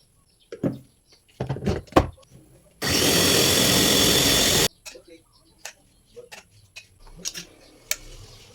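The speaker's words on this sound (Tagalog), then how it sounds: "dito ko na rin i-blender yung sayote at chicken" A blender whirs loudly and steadily for about two seconds, pureeing chayote and chicken into baby food, set between clatters, taps and kitchen clinks.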